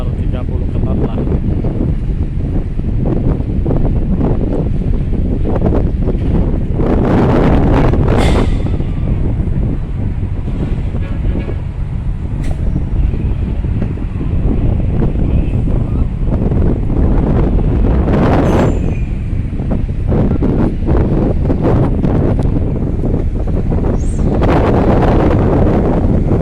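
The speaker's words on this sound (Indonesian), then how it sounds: "Malam ini cuaca angin kencang sekali ya" Strong night wind buffets the microphone at Bakauheni harbour, roaring in heavy, uneven gusts throughout, with someone speaking over the rumble.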